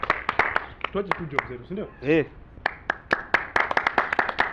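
A scatter of audience hand claps pops sharply and unevenly throughout, mixed with someone speaking over them.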